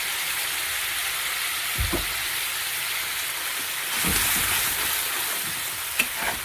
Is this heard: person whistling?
no